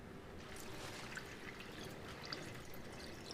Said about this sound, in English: pour in 2 litres of chicken stock